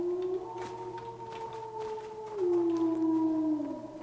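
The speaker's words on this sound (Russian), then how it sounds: "Ты слышал? Это волк воет." Wolf howling in the video game CardLife: long sustained tonal howls, one wavering note followed by a louder, rising then sliding howl, clear and alone with a steady low hum beneath.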